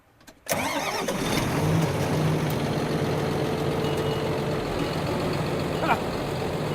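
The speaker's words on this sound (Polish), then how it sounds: "A ja, rączki na brzuch, ciągnik sam jedzie." A 50-horsepower tractor engine starts abruptly and settles into a steady, loud diesel drone with a low throbbing hum, running continuously.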